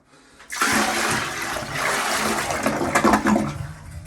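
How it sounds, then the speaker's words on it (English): A sudden rush of water poured down a toilet drain to pull water through the P-trap, a loud, churning swirl lasting a few seconds before tapering off. "I'm gonna pour a bunch of water down this all at once and try to create a suction"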